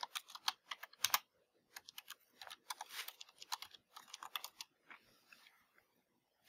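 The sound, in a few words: typing a command on a computer keyboard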